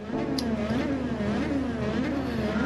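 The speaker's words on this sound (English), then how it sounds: "Listen to that Porsche go." A Porsche Cayman race car accelerates off the start at Interlagos, Brazil, its engine a steady, loud, close drone that holds throughout without pause.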